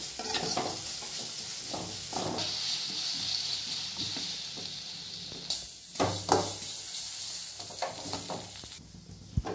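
Egg and paneer fry on a high flame for spicy fried rice, giving a steady loud sizzle with scraping stirs and brief louder bursts, no voices.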